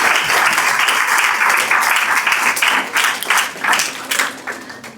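Dense applause from an audience fills the stretch, steady at first and then breaking into uneven bursts of clapping that fade slightly toward the end, with no voices over it.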